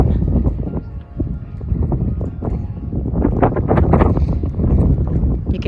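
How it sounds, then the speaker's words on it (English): Gusty wind at the Acropolis of Athens buffets the microphone in uneven, rumbling bursts that swell and fade, loud and close, with no other clear sounds. "You can hear the wind around me,"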